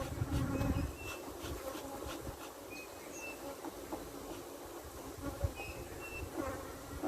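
Honeybees buzz around a brood frame in an open hive, a steady close insect drone with occasional louder passes of individual bees and faint handling noises.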